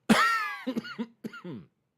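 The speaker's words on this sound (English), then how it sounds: "There's the cough." A single harsh cough close by, followed by a few short throaty sounds, then quiet.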